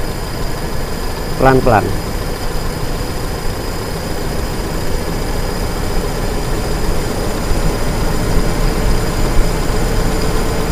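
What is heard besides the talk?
car engine revved by RPM adjustment bolt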